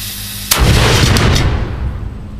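A black powder cannon loaded with a golf ball fires once, a sudden loud blast followed by a long rolling boom that slowly fades.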